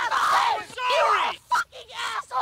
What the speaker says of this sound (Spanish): Ah, eso sí, van a gritar mucho.